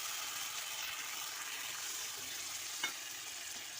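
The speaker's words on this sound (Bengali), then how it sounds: "এবারে আমি জল দিয়ে দিচ্ছি" Potatoes sizzling in hot oil for a lentil-fritter curry as water goes in, a steady broad frying hiss with a brief splash-like burst near the end, close and alone.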